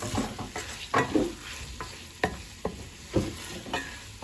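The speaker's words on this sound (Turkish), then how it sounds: "Ve 10 dakika ben bunu kavuracağım." Tripe sautés in a pan with a soft background sizzle, broken by repeated clattering stirs of a utensil at an irregular pace, close by.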